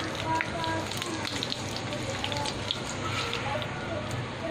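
Curry leaves, cumin and mustard seeds sizzling in hot oil, a continuous soft crackle and spatter with small pops, moderately quiet and close.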